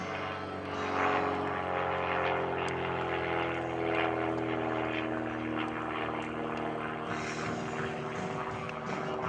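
Jason Flood's high-horsepower aerobatic propeller airplane droning steadily overhead at an airshow, a loud continuous engine note with shifting pitch held throughout.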